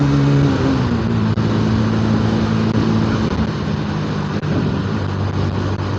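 A 125cc motorcycle with a freshly cleaned carburettor accelerates in the rain, its engine note climbing in pitch under steady loud wind and road roar throughout.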